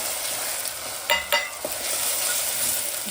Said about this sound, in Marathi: टमाटा कांदा चांगलं परतू द्यायचं